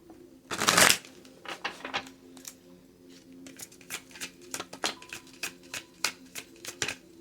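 Animal guidance cards are shuffled up close, opening with a loud riffling burst and followed by a long run of crisp snapping and flicking cards, with no speech.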